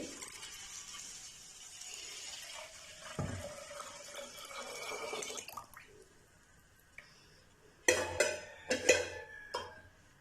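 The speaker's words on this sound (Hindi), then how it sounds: "1 लीटर दूध जो है वो हम डेचकी में डालेंगे" One litre of milk is poured into a cooking pot set on a stove. A soft, running liquid pour is heard, then it stops, followed by a few sharp clinks and knocks near the end. No one speaks.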